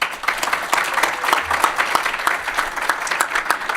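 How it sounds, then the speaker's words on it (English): Clapping crowd applauds for FinCEN at a formal event, a dense, steady stretch of many hands clapping at close range. "Put a cheer for FinCEN there."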